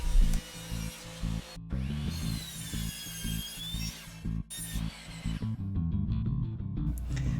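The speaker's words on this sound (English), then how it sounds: "So I started cutting the plywood to size." A saw cuts plywood to size for a furniture build, heard up close and loud with repeated strokes and a harsh rasping buzz, broken by short pauses between the cuts.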